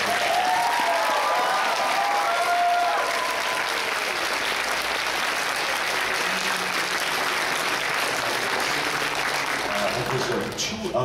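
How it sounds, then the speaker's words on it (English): Sustained applause from a large convention crowd at an anime convention's closing ceremony, thanking volunteers; broad steady clapping fills the hall for about eleven seconds with a few voices faintly mixed in before it thins at the end. "let's have a big round of applause for all the people who are doing"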